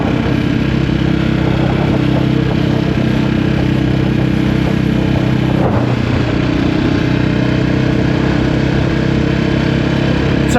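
A Sherco 450 SEF enduro motorcycle engine drones loud and close throughout, a continuous ride with a steady rumble and a brief shift in tone midway.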